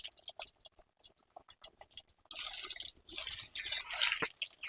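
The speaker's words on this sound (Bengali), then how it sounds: "না, তেল গরম হয়ে গেছে, এবার একে একে তেলের মধ্যে ছেড়ে দেব।" Potato finger fritters slipped one by one into hot oil, the first taps giving way to a sudden burst of bubbling sizzle that swells louder with a sharp spike near the end, no voices present.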